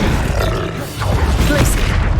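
An Expelliarmus disarming spell cast in Hogwarts Legacy, a burst of magical combat effects with grunting and booming impacts layered over a dense, continuous game soundscape.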